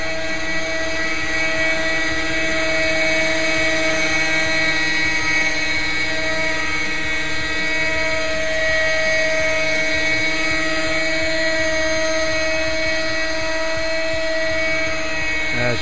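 A Quickie 18 radio-controlled helicopter hovers close by with a steady, loud whine of engine and rotor, its tones holding constant throughout with no talking.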